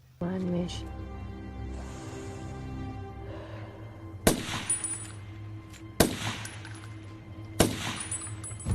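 Sniper rifle shots in an action film, three sharp loud cracks spaced a couple of seconds apart with ringing tails, over a low music bed while a narrator talks.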